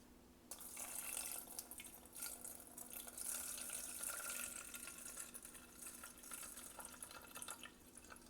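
A kitchen tap runs water into a cup to measure it for cooking rice, a steady close splashing stream that starts after a brief pause and continues throughout.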